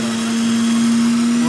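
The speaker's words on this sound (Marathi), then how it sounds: "त्याच्यानंतर आपण त्याचे हाडं वगैरे बाजूला करून आपण मिक्सरला ते लावून घेणार" A kitchen mixer grinder whirs loudly and steadily, running at close range as it grinds deboned boiled chicken with bread into a fine crumb.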